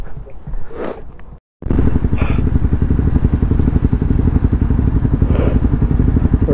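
A Honda motorcycle on a ride near Botany Bay in Sydney, the engine and exhaust thrumming in a steady, loud, close putter after a brief cut, with occasional voices over it.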